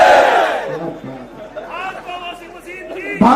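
Crowd at an election rally shouting a slogan in unison, a loud burst of massed voices at the start fading into a murmur of chatter and scattered calls, with another shout rising at the end.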